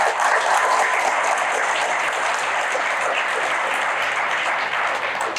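Loud, sustained audience applause for a high school choir at a schools performance evening, an even wash of many hands clapping close by throughout.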